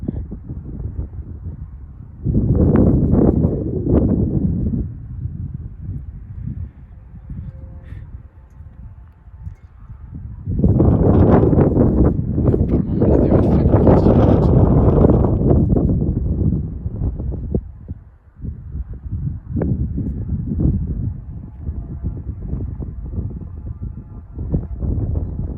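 Strong east-northeast bise gusting to about 46 km/h at a fixed outdoor wind-measuring spot, roaring in loud buffeting surges against the microphone that rise and ease over several long waves.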